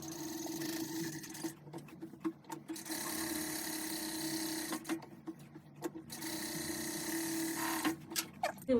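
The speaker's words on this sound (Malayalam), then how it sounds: "ഇനി നമുക്ക് ഈ നെക്കിൻ്റെ ഈ ഭാഗത്തു കൂടെ സ്റ്റിച്ച് കൊടുത്തിട്ട് വരാം" Sewing machine stitching along the neckline of a birthday outfit, running in bursts of rapid steady whirring separated by short pauses, close and fairly quiet.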